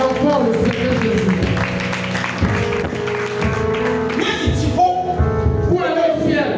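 Church congregation applauding in praise, steady rhythmic clapping mixed with singing and voices, loud and continuous, with a few louder bursts near the end.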